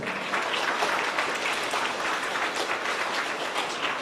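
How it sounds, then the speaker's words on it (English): Steady, continuous audience applause at a grades 4-6 school awards ceremony, a broad wash of many hands clapping at even loudness throughout. "You can give her a round of applause."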